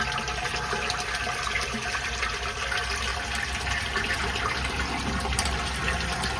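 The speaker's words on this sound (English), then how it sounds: "you can see all the water draining out of the septic tank now into our holding tank" Water draining from a septic tank into a holding tank at a failed lift station, a steady loud gushing, rushing flow that runs continuously without pause.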